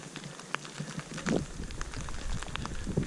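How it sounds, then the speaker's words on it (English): Tiny hail pellets fall outdoors at a lakeside boardwalk, a dense, fine patter and ticking against surfaces and clothing under wind, close and continuous. "Kind of like little hail as opposed to snow."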